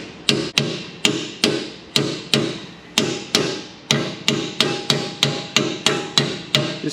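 A hammer taps an axle seal into a bearing during a Ford F150 4x4 rebuild: about fifteen sharp, close metallic taps in a steady, even rhythm with no talking.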